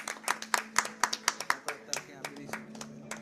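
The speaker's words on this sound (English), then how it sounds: "A big round of applause for Fatima." A small audience clapping for a prize winner at a school presentation hall, a short burst of quick, sharp claps that thins out toward the end, with voices murmuring underneath.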